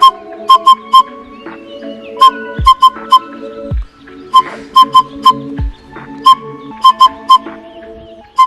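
A bird guide's whistle imitating an owlet's call sounds in repeated short, sharp piping notes, often in pairs or triplets, loud and close, with fainter bird calls and rustling between.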